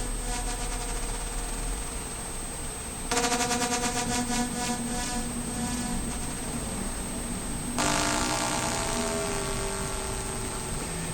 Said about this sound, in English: the sorts of sounds that you get out of ring modulating depends upon the, what your two waveforms are and what the offset between them is